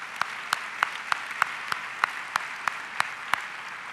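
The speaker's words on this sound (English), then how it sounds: "Let's give them a round of applause for their support." Clapping for sponsors at an annual meeting opening session comes as a string of separate, evenly spaced sharp claps about three per second, sounding more like a few hands than a full crowd.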